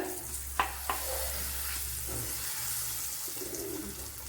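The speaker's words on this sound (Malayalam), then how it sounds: "ഇതിലേക്ക് ഇനി ഈ പൊടിച്ചു വെച്ചിരിക്കുന്ന ഈ പൊടി ഐറ്റങ്ങളെല്ലാം ഇട്ട് കൊടുക്കുക." Ground spice powders tipped into a hot pan of oil for rambutan pickle, a steady soft sizzle and frying hiss with a couple of light clicks of a spoon early on, quiet and close.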